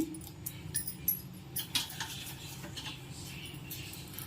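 Mustard seeds fry in a generous amount of hot oil in a pan for a stuffed eggplant fry. Close, scattered crackles and pops sound over a soft sizzle, with occasional clinks of utensils.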